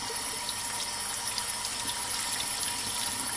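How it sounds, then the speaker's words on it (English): Cool tap water runs steadily over homemade cottage cheese curds to rinse off the vinegar, a constant close splashing gush with no pauses or talk. "we are going to want to rinse the curds in cool water to get the vinegar off"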